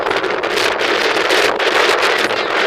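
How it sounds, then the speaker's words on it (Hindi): Strong wind gusts buffet the microphone outdoors, making a loud continuous roar that rises and dips in waves, with no voices over it. "देखे इतनी तेज तेज हवा आ रही है।"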